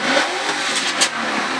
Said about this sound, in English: I recently put in a Gibson Super Truck Catback.